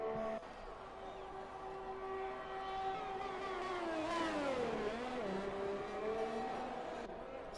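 A Formula 1 car's engine screams as it accelerates along a straight with DRS open in F1 2021 at Mexico, with a rising then falling high-pitched whine. A commentator talks over it.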